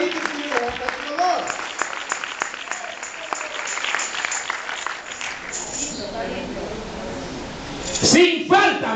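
Congregation in a church claps during a bilingual sermon, a lively burst of hands that fades into murmuring crowd noise, with a voice speaking near the end.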